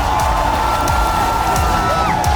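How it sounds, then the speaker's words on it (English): A large esports crowd at ESL One Kuala Lumpur cheers and whoops in a big hall, a loud continuous roar of many voices filling the whole moment. "Thank you everybody for coming out and cheering for us."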